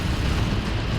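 An Ork battle wagon in a Dawn of War 2 match grinds and rumbles loudly, with a dense, continuous mechanical churn of engine and crunching over one second and no voices.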